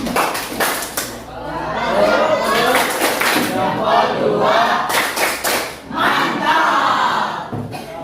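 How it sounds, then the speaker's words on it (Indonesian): A classroom group gives a patterned, rhythmic clap in sharp synchronized bursts, with crowd cheering and chatter between the clap sequences. "Kita kasih tepuk mantap lagi ya."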